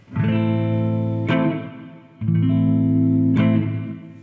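Sustained electric guitar chords ring out through a T-Rex Whirly Verb reverb pedal with modulation off, soft reverb tail, two strummed chords each held about two seconds, clean and steady with no wavering.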